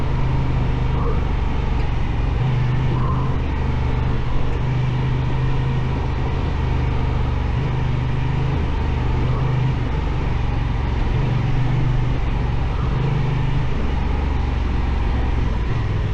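Honda Transalp 750 motorcycle ridden off-road on a training outing, its engine a constant loud drone with rhythmic rises in revs and heavy rumble throughout.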